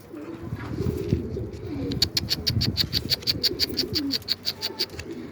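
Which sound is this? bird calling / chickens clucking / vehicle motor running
bird calling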